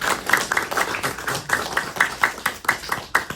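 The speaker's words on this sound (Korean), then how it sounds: "이럴 때 박수가 있어야 됩니다" An audience at a Korean veterans' Christian worship service claps in a brisk, even rhythm, sharp and close, with no talking over it.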